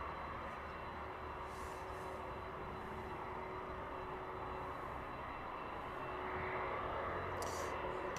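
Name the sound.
DHL Boeing 767 passing by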